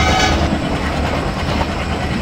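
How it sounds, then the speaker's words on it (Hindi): A MEMU train rumbles and clatters close by in Train Simulator 2022 during an overtake, with a continuous loud rolling roar and rhythmic wheel clicks. "मेमू ट्रेन को कर रहे हैं हम लोग यहाँ पे ओवरटेक"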